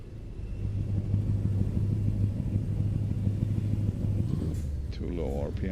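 Scania R730 V8 truck engine idling at low RPM in a trucking video game, a deep, steady rumbling drone throughout, with a brief higher mechanical whine near the end.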